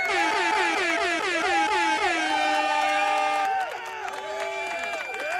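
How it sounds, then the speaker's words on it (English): An air horn sound effect blares in repeated rising bursts, then holds a long sustained blast, with faint crowd noise behind it. "I'm gonna go ahead and give you an air horn."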